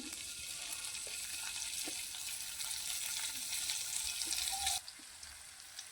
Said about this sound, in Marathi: चला तर याच कढईमध्ये आपण खवा एकदम बारीक करून टाकूया।